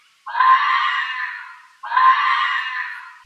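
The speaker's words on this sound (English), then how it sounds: "Fox." A fox's call in a children's animal-sound lesson: two loud, high, raspy screaming cries of about a second and a half each, separated by a short gap, with no other sound.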